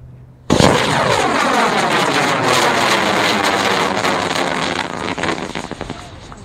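A Stealth model rocket launches on a long-burn skid motor, erupting abruptly into a loud, steady roaring hiss that holds for about six seconds before starting to waver and thin out.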